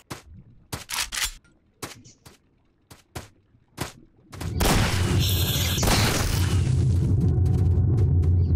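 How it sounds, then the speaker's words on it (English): In the video game Stalker Narodnaya Solyanka, several sharp, separate shots crack out at irregular intervals. A loud, sustained roaring rumble then takes over and lasts to the end. "I just heard gunfire."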